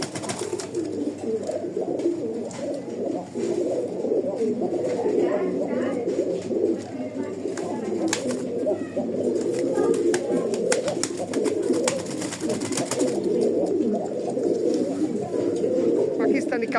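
Silver Giribaz racing pigeons coo in a dense, continuous chorus that sounds close and steady throughout, with overlapping calls and faint rustling.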